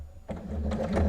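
Short run of a sewing machine stitching a project bag, starting abruptly after a moment of quiet and buzzing in quick rhythmic pulses close by.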